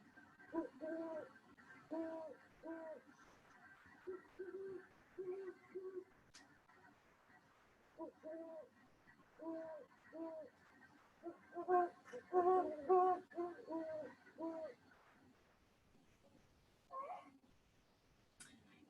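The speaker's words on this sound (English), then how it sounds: "this is the great horned owl, and I'm going to actually play their call" A recording of a great horned owl call plays, giving soft, low hoots in short rhythmic groups that repeat through the clip with brief pauses between them.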